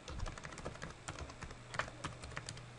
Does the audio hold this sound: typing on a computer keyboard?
yes